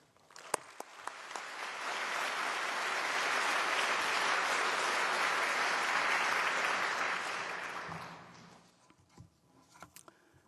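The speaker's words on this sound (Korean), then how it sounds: "나오실 때 뜨거운 박수로 환영해 주시기 바랍니다" A church congregation applauds to welcome a visiting pastor, with warm sustained clapping that swells, holds for several seconds, then tapers off into a few scattered claps.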